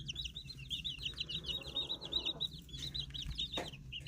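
Baby chicks peep in a steady run of high, rapid chirps, close by, with a hen's low clucks and soft farmyard rustling underneath throughout.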